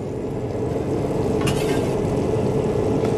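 Butter and blueberries fry on a hot EVO ventless griddle, a steady, loud, close sizzle that holds evenly throughout, with a brief scrape near the middle and no speech.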